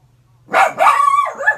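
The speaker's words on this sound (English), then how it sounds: "So we're going to hear her bark." A pet dog barks twice close by in a home, two loud bright yips in quick succession with a short gap, then a drawn-out whining bark trailing off.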